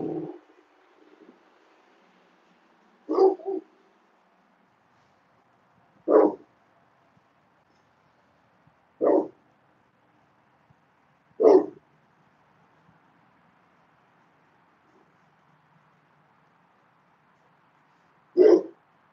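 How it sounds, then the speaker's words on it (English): Single dog barks sound at spaced intervals, five or six sharp woofs separated by a few seconds of near silence, moderately close. "listen to my dogs."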